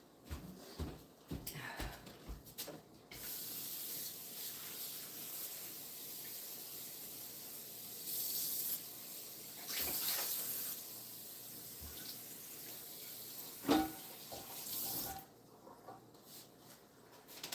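Tap water running steadily over a rusty cast iron pan being rinsed in a sink, a continuous close splashing hiss with brief louder gushes and clinks, no talk.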